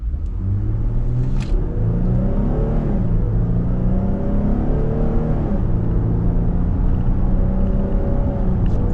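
A 2026 Dodge Durango GT with the Pentastar engine accelerating hard in sport and manual mode, its engine note climbing and then dropping at each paddle-shifted gear change, loud and close from inside the cabin with no talking.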